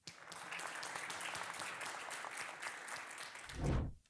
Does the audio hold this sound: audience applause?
yes